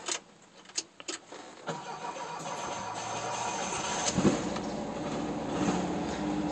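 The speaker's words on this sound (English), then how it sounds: "a crossover pipe, which has a rust hole in it, and that's where some of the sound is coming from" A car engine with a rust hole in the exhaust crossover pipe idles with a rough, raspy rumble, then picks up and holds a louder, steadier drone with a few sharp clanks near the start.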